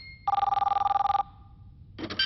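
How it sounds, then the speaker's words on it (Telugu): An office fax machine rings in a steady burst of rapid electronic trills, clear and close, then falls silent before a brief louder clatter at the end. "అది ఫోన్ కాదు, ఫ్యాక్స్."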